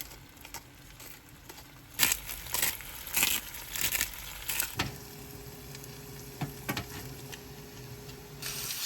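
Potatoes, mushrooms and salmon fry together in one pan inside a fitted-out 4x4 on a snowy stop: a soft, steady sizzle broken by sharp clatters and scrapes of a utensil stirring, close and fairly quiet, with no talk.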